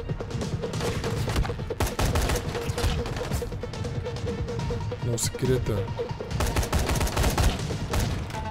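Rapid bursts of gunfire in Dying Light: The Following crackle loudly and repeatedly over in-game noise, with a player talking throughout.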